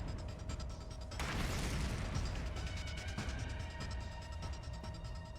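A bomb goes off in The Hundred Line: Last Defense Academy, a burst of rumbling blast noise that swells after a second and then fades into a lingering crackling, mechanical tail over steady game background sound.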